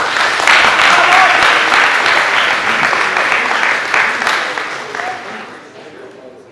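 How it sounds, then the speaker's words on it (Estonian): Audience applause at a school student council presidential election debate, a dense wash of clapping that holds steady, then thins and fades away toward the end. "Võib aplausi teha küll selles mõttes"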